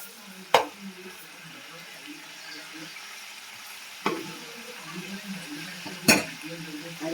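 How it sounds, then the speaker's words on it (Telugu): Tomatoes fry in oil for veg biryani, giving a soft continuous sizzle punctuated by three sharp clinks of a utensil against the pot, with faint murmuring voices in the background. "కొంచెం బాగా నూనె, టమాటా కూడా మగ్గనివ్వాలి, ఫ్రై అవుతుంది."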